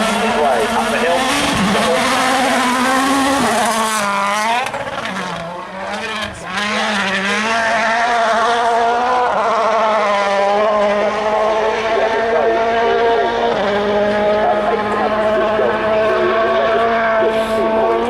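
A rally car at the Wales Rally GB Rally of Legends revs hard as it comes over a jump, its loud engine rising and falling under excited commentary.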